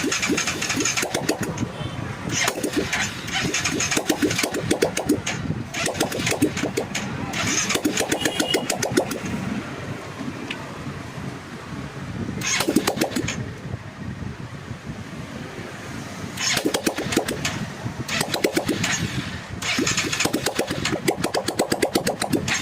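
A Hero Honda Karizma motorcycle with a new carburettor, being brought to life with the self-starter during restoration, cranks and catches into a loud, rough running engine that rises and dips in bursts, close to the microphone, with wind noise.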